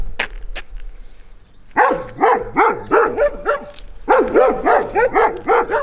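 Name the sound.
black dog barking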